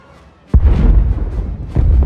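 Two heavy booming video game explosions in Star Wars: The Old Republic, the first loud and sudden, the second about a second later, each followed by a rolling rumble.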